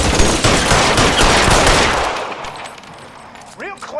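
Machine gun fire in the video game L.A. Noire, loud rapid bursts that thin out into scattered shots, with a voice breaking in near the end.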